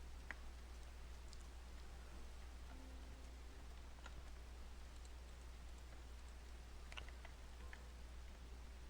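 Steady rainstorm in the Minecraft-style game CraftKingdom, a soft continuous hiss of falling rain with scattered faint drip ticks and a low constant hum underneath, no talking.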